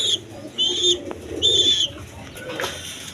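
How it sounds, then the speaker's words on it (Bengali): Rajgolla pigeons, a quality breeding pair kept for sale, give soft cooing calls close by, broken into short repeated bursts with thin chirpy overtones and no talking. "এইখানে আরেক পেয়ার রাজগোল্লা কবুতর আছে, একদম কোয়ালিটি সম্পন্ন কবুতর।"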